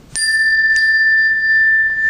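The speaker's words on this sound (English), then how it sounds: "Can hit this duo chime." Two strikes on a metal duo chime, each a bright ding that rings out in a long sustained tone slightly out of tune with the other, close and clear.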